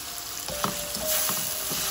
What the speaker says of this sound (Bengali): চিংড়ি মাছ দিয়ে দিলাম।